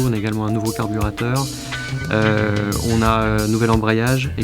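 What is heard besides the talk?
No everyday noise stands out behind the speech.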